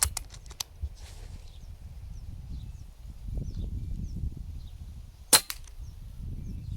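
Two sharp, quiet cracks from a moderated Umarex Notos air rifle stand out against a low outdoor rumble, one near the start and another a few seconds later, each brief and muffled.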